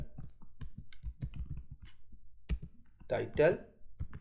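Keys clack in an irregular run as someone types in Notepad++ on a computer keyboard, the taps close and crisp, with a short stretch of talking near the end.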